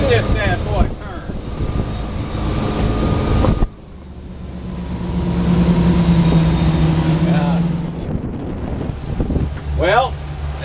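A 2007 Larson 31 Cabrio motorboat's engine drones steadily over wind and water noise during a sea trial, rising as the boat swings around, with brief bursts of talk.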